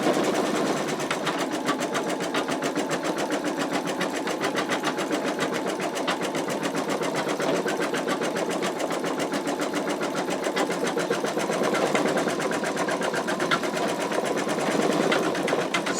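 An embroidery machine stitches the outline of an in-the-hoop wallet, a steady rapid needle chatter that runs continuously and close throughout, with no talking.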